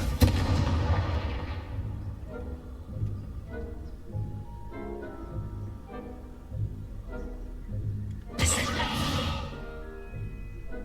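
A Confringo blasting spell in the video game Hogwarts Legacy erupts in a loud booming explosion, quieter rumbling and game effects follow, then a second sharp blast bursts near the end.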